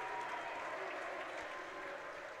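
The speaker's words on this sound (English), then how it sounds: "Kai Anderson now get a nice round of applause from the student section" A student section at a girls' basketball championship game claps in a steady, continuous wash of applause, heard faintly and at a distance.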